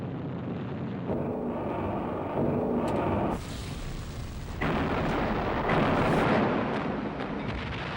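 Explosions and heavy gunfire from a Japanese bomber attack on British warships, the battleship Prince of Wales and battlecruiser Repulse, as a loud continuous roar of blasts with surging bursts and rumbling booms.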